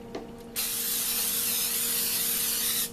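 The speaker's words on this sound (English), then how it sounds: "you spray your pan thoroughly, because if you don't spray it, it sticks" Cooking spray from an aerosol can misting onto a metal brownie pan: a faint click, then one sustained, close, loud hiss lasting over two seconds before cutting off.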